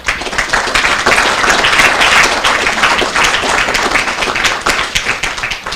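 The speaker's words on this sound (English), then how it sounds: "So I ask you to just make an applause and acknowledge their works." Dense, loud applause fills a hall at the Brain of the Year 2014 event, a thick continuous patter of many hands clapping at once that holds steady for several seconds.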